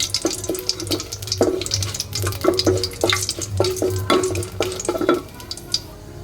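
Bay leaf, garam masala and dried chilli fry in hot oil for a Malabar spinach dish, a steady close sizzle with repeated scraping stirs and clinks, a low hum running beneath.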